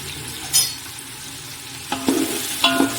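Onions frying in ghee, a steady close sizzle with a few louder scrapes and clinks as they are stirred in the pan.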